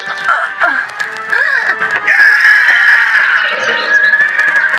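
A horse neighs loudly and up close, a long shrill whinny that wavers and trails off, with faint other sounds beneath.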